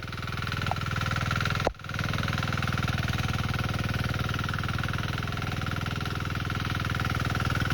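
A Sharp Garuda mini weeder engine running in a banana field gives a steady, close, throbbing idle hum, broken once by a brief knock early on.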